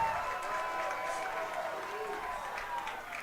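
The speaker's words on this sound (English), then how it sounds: "She gets a round of applause from these Comet fans" Comet fans applauding a save at a girls' high school soccer playoff match, a fairly faint, steady wash of distant clapping and crowd noise under a commentator's voice.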